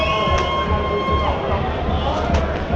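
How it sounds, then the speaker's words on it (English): Crowd at a Southend United v Gateshead National League football match, a steady roar of cheering and murmuring spectators heard from a distance, continuous and fairly loud under a radio commentator's voice. "we're also getting some cheers from maybe a couple of infiltrating Gateshead fans amongst the crowd"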